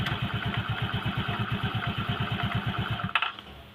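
A Honda Vario scooter engine idles close by with a fast, even, pulsing putter for about three seconds, then cuts out abruptly into near silence.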